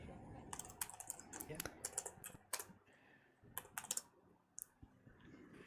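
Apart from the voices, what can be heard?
typing on a computer keyboard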